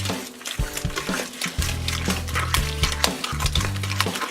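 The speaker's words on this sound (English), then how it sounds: "Gonna mix that right in there." Eggs are stirred into butter and sugar for chocolate chip cookie batter, giving close, rhythmic scraping and sloshing strokes of a utensil against a bowl with thick, wet clicks, repeated steadily with no talking.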